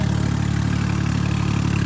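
A tractor engine idles steadily and loudly nearby in a farm field, a constant low chugging drone with no pauses.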